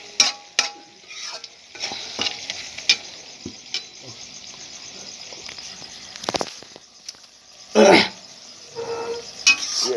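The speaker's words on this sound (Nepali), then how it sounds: "यो चाहिँ अझै भुटेको छैन चाहिँ मजाले भुट्नुपर्छ यसलाई" Meat stir-frying in a pot over a traditional clay stove, with a low steady sizzle broken by irregular close scrapes and clinks of stirring and a louder scraping burst near the end; no talking.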